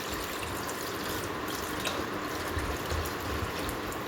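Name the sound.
water being poured into vegetable sambar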